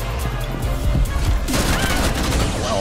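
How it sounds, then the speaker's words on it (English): Gunfire and melee strikes from Rainbow Six Siege gameplay, with dense overlapping shots and impacts at full loudness, and a sharper burst of bangs about halfway through. "Melee her and then shoot her in the leg."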